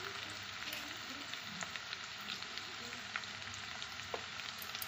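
Potatoes frying in a pan give off a faint, steady sizzle and crackle, with occasional light clicks as they are stirred.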